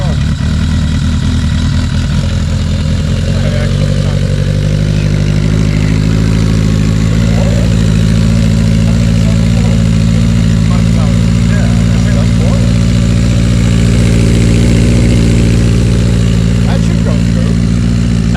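A motorcycle engine with a new muffler idles loud and close, a steady deep rumble throughout with slight rises in revs, while people talk over it.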